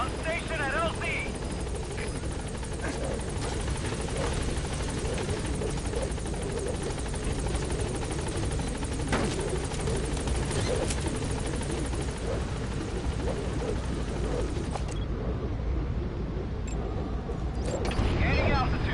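The Pequod helicopter in the game Metal Gear Solid V climbs and gains altitude, a steady loud rotor roar that continues throughout, with radio-style game voice lines over it.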